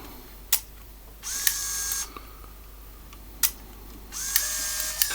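A Kodak Snapic A1 film camera whirs as it automatically loads film, two sustained motor runs of about a second each, close and fairly loud, with sharp clicks and short mechanical ticks in between and no talk.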